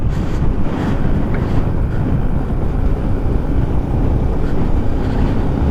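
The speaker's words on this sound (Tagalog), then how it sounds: "So ang lakas talaga ng hangin." Heavy wind roar buffets the microphone of a Yamaha Sniper 155 VVA motorcycle with a remapped ECU riding the bypass road into Gapan, Nueva Ecija, a loud, constant rush with no break.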